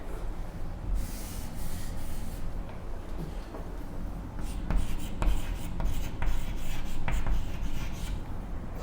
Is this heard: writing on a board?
yes